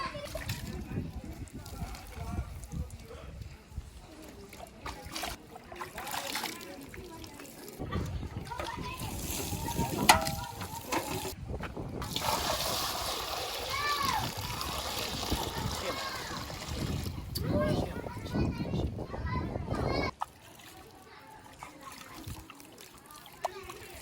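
Tubewell water splashing over a buffalo as it is bathed outdoors, a steady spatter and pour lasting throughout, fairly close, with a voice and other talk heard over it.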